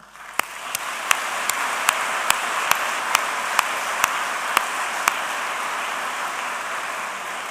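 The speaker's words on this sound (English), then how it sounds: "So will you please join me in giving a really big round of applause to that team?" A large audience at a university conferring ceremony gives a sustained round of applause, with a few sharp, evenly spaced clicks standing out over the steady clapping.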